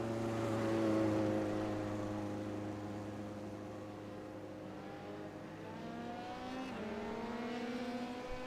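A race car in a racing video game slows into the pit lane on its speed limiter: a continuous buzzing engine drone whose pitch sinks, then climbs again, moderately loud with no talk.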